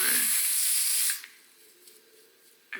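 A loud, steady spray of lace adhesive for a wig install hisses for about a second, then cuts off, leaving quiet with a short burst of hiss at the very end.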